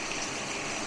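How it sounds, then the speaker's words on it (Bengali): Water is poured in a small amount into a bowl holding spices, a steady close gushing splash that lasts under a second with no voices. "আর এই বাটিতে জলটা দেবো অল্প করে, যে বাটিতে যে মশলাটা আছে"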